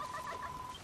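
A chicken in the Dragon Quest Builders 2 video game gives a brief, faint burst of clucking.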